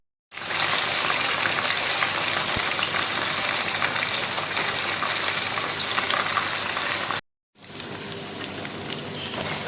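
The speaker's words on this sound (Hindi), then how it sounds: "पहले चिकन को फ्राई करते हैं" Chicken pieces frying in a pan for a village-style chicken masala, a steady dense crackling sizzle running continuously, briefly cutting out near the end before resuming just as strong.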